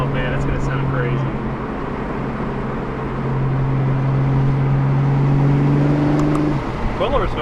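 A single-turbo BMW F82 M4 engine holds a loud, steady drone at moderate boost with a rising whine that builds, then drops off near the end as a voice speaks briefly.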